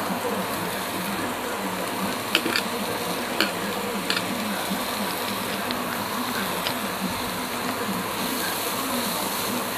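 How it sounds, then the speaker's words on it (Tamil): Onions softening in a pan, a soft continuous sizzle and hiss at low level with occasional faint clicks from stirring. "வெங்காயம் நல்லா வதங்கட்டும்."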